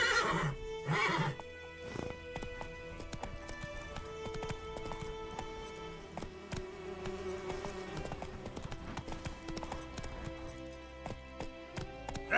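A horse in the video game The Witcher 3 gives a loud neigh at the start, then its hooves clip-clop steadily under sustained game music for the rest of the stretch.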